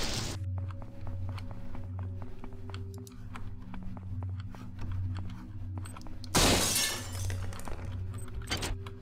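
Glass shattering in the video game System Shock 2: a sudden bright crash of breaking glass midway through, set against a low humming ambient drone and scattered small clicks.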